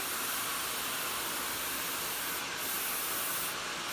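A light spray mist is applied to a bridal veil being shaped, producing a soft, steady hiss that runs continuously at low volume throughout.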